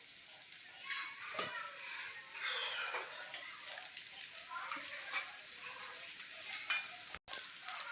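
Dosa frying on a hot griddle with oil poured over the top, a quiet continuous sizzle with soft scraping and occasional light clicks, no voices.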